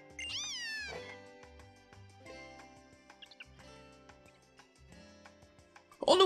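Litten, the fire cat Pokemon from the Sun and Moon video game, gives a few high, bending meows early on over light game music, with a louder cry at the very end.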